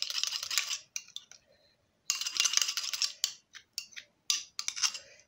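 Honey and charcoal hair mixture stirred in a bowl, giving repeated bursts of scraping and clinking close by, separated by short pauses, with no talking.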